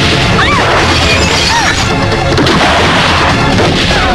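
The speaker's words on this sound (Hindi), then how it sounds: "यहाँ चारों तरफ गोलियां चल रही हैं" Loud, chaotic crashes and booms pile up continuously, with sharp impacts and rapid bursts of gunfire amid a dense battle din in a Hindi film action scene.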